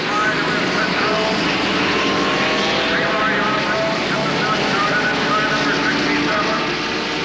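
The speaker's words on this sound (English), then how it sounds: "Wild sound of these turbocharged Fords and Offenhauser engines for the most part." Turbocharged Ford and Offenhauser race car engines at the 1969 Indianapolis 500 pace lap, a loud continuous droning roar from many cars together, steady throughout with crowd noise blended in.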